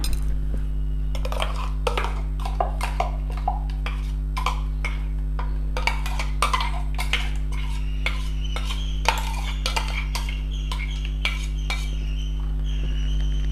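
Ginger garlic paste being added and stirred into yogurt in a mixing bowl, a run of light spoon clinks and scrapes against the bowl, close and fairly quiet, over a steady background hum.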